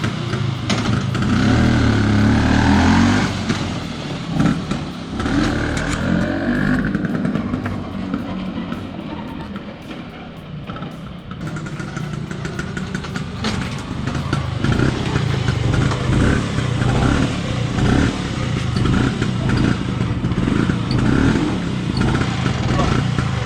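Vespa scooter with a serviced carburetor running on a test drive, a continuous close engine drone with buzzy, clattering texture that dips briefly midway before picking up again, with people talking over it at times.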